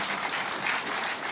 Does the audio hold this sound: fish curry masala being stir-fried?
no